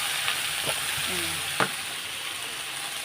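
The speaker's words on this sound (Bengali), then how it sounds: "এবার একটু নাড়াচাড়া দিয়ে দেবো" Vegetables fry in a pan with salt and turmeric as they are stirred, a constant sizzle broken by a few light spoon scrapes and one sharper knock.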